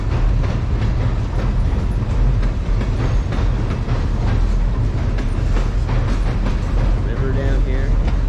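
A long train passes close by near a river on a road trip to Maine, its wagons rumbling and clacking in a steady, loud, unbroken stream with faint wheel squeal toward the end.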